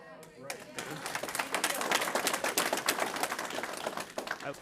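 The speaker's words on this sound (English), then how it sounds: "Please hold your applause." An audience at a state legislative committee hearing on energy and technology breaks into applause after a short voice, a dense patter of close claps that rises and holds steady.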